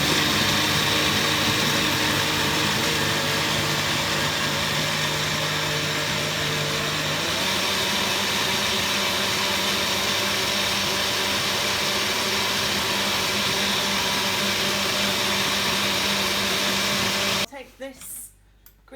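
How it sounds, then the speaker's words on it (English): A smoothie maker blitzes green pancake batter with blended greens, a loud steady whirring drone that runs unbroken for most of the stretch, then cuts off abruptly near the end. "If you have a smoothie maker, just blitz away and let's get going."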